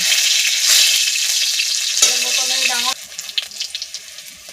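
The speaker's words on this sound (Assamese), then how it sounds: "এয়া তেল দিছোঁ, পাঁচফোৰণ দি দিছোঁ, লগতে কেঁচা জলকীয়া দিছোঁ।" Panch phoron spices and green chili fry in hot oil with a loud, steady close sizzle, which cuts off sharply near the three-second mark, leaving softer crackles and spits.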